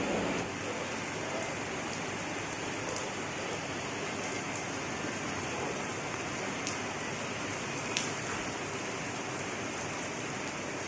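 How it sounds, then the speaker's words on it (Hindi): Rain falls steadily on Janmashtami day at a home in India, a soft, even wash of noise throughout with a few faint ticks of drops standing out. "लेकिन बारिश हो रही है।"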